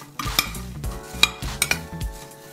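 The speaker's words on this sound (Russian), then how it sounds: "Все вместе перемешиваем" Chopped apples with cinnamon and sugar are stirred in a bowl for an apple streusel, with several sharp spoon clinks and soft scraping strokes close by, uneven in rhythm and with no voices.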